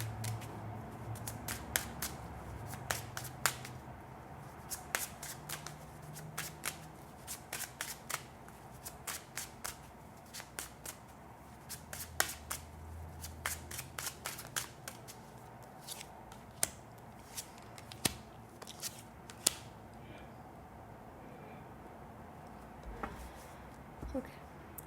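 Tarot cards are shuffled close by in quick, repeated riffling snaps that come in clusters over a soft background, continuing steadily with short gaps throughout.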